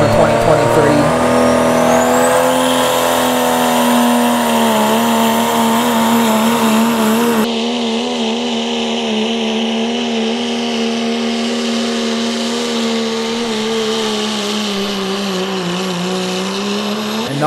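A pulling truck's engine roars and revs hard through a track run at the 2023 Listie 2 Day Thunder pull, holding a loud, steady drone that shifts pitch, with announcer commentary running over it throughout.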